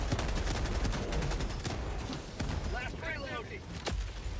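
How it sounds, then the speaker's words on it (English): Rapid bursts of gunfire from the Helldivers 2 video game crackle densely for about two seconds, then thin to a few scattered shots as a voice talks over them. "I unloaded 50 shots of freedom into that mother."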